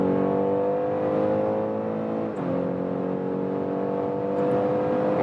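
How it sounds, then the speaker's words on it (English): A BMW X3 xDrive30e plug-in hybrid accelerates hard in sport mode, its engine note rising steadily with a synthesized sound actuator adding tone, briefly dipping at a gear change before climbing again, heard loud and continuous from inside the cabin. "in the sports mode, we also have, due to this sound actuator, a nice sound on the interior and good acceleration here"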